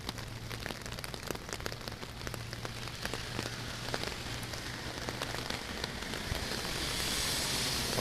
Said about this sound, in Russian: Идет сильный дождик.